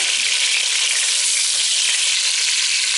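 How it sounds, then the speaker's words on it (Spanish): Chicken thighs frying in hot oil, a steady dense sizzle with crackling that holds evenly throughout, close and fairly loud, with no voices. "Cuando se termine de freír, el pollo lo vamos a sacar del aceite de vez"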